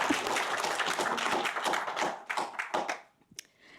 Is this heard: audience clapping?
yes